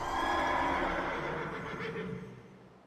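A water horse mount in World of Warcraft lets out a single loud, drawn-out whinny that fades away over a few seconds, with no talk over it.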